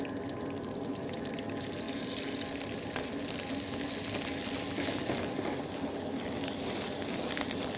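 Onions sizzle steadily in hot oil in a pan for bhendi do pyaza in a hotel kitchen, a dense continuous fry that stays loud and close throughout with no one speaking.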